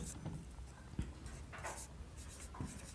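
Chalk or marker strokes on a classroom board during a physics lecture on units and measurements, a few short scratchy taps and strokes spaced across a quiet, slightly hissy room with no talking.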